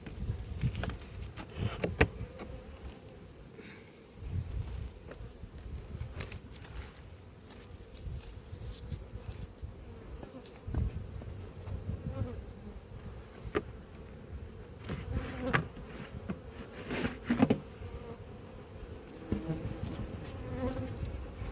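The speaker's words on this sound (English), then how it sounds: "Nearly got that wasp." A wasp buzzing around beehives in an apiary, a close, droning hum that rises and falls as it circles, with faint bumps and movement throughout.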